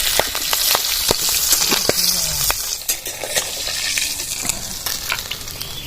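Singi fish frying lightly in mustard oil in a pan, a steady loud sizzle with sharp spatula scrapes and clicks stirring through it, heard close up and without talk.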